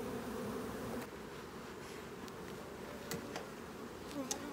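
Honeybees hum steadily at a hive crowded with drawn comb, a soft continuous buzz with a few faint bees passing close.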